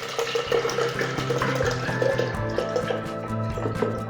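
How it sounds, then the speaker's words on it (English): Rice milk poured from a carton into a blender for a raspberry blueberry smoothie, a continuous close glugging, splashing pour lasting several seconds. "We begin by putting in 500 millilitres of the rice milk"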